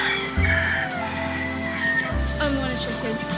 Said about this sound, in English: look at the tiny chickens